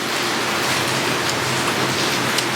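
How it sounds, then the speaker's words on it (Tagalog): Light rain falling steadily outdoors on a rainy day in the Philippines, a continuous even hiss of drops with no breaks, moderately loud and close, with no voices. "So, konting ulan ngayon"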